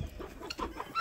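Chickens cluck close by in a backyard flock, a rapid run of short clucks and murmurs, moderately loud with no talking.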